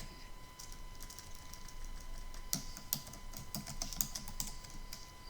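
Quiet, close keystrokes clatter on a computer keyboard during data entry, irregular taps with a few sharper bursts, over a faint steady hum and no talking.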